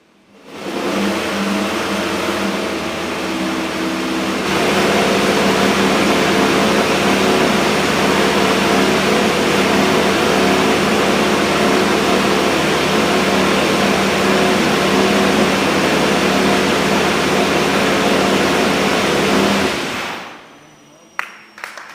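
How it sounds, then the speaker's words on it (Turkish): A Ferrari Formula 1 car engine idles loudly and steadily for most of the clip, its pitch rising slightly partway through, then it cuts off abruptly near the end. "Rölanti'de çalıştırılan bir motor duyuyoruz aslına bakarsanız"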